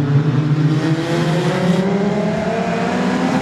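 Production sedans race at Wahgunyah Speedway on a restart, several engines roaring loud and continuous with rising and overlapping revving pitches, like a pack of cars sweeping down the main straight together.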